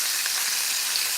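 Chicken sizzles hard in hot oil with a cornstarch crust, a loud, dense, crackling hiss that runs steadily without pause and with no talking.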